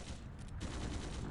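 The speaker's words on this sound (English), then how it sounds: "Gunshots from the next district!" Gunfire in the video game Trails through Daybreak 2, heard as a dense, continuous burst of rapid shots filling the whole short stretch, sounding distant and rumbling, with no voices.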